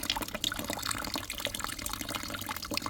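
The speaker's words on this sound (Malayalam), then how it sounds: "അതിലേക്ക് ഇനി കുറച്ച് ചൂടുള്ള വെള്ളം കൂടി ഒഴിക്കുന്നുണ്ട്" Hot water pours into a bucket already partly filled with cold water for a home pedicure soak, splashing and trickling steadily up close for about three seconds with no talk.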